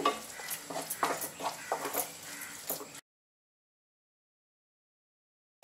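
Tomatoes being stirred in a pan while cooking dum aloo, giving a short run of close scraping and light sizzling strokes that stop abruptly partway through, leaving silence.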